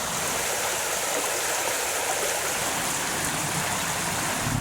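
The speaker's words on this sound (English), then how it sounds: "Beautiful, beautiful flowing creek." A flowing creek in the Great Smoky Mountains rushes and splashes steadily close by, a dense, even hiss of water that carries on alone without any voices.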